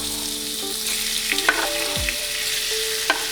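Diced meat hits hot oil in a pan on medium-high heat, giving a loud, continuous close sizzle with a few spatula scrapes and clicks.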